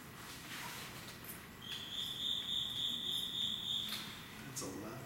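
A loud cricket chirps in a steady shrill trill at night during an investigation of the old Missouri State Penitentiary in Jefferson City, sounding close and sustained for a couple of seconds over quiet background hiss.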